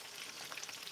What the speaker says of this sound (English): Look, I am frying fish.